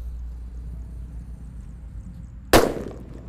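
A purple Disco Happy Flower firecracker goes off with one sudden sharp bang about two and a half seconds in, after a steady low background rumble, then a short fading crackle.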